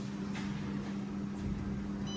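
LIANHE VME-25L emulsifying mixer with its vacuum function switched on, giving a steady low machine hum with a constant tone that runs unbroken and fairly quiet throughout, with no talking.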